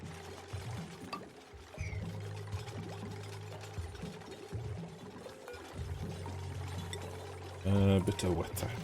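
Water pours in the colony-building video game Oxygen Not Included, a running liquid sound over a low mechanical hum, ending in a short, louder gush.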